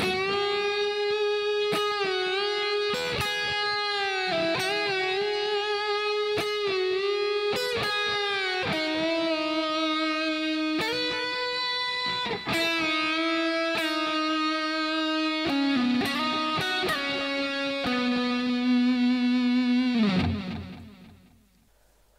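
Electric guitar playing the first section of a solo slowly, loud and alone: sustained lead notes with bends and slides, each one ringing on, with a final long held note fading out.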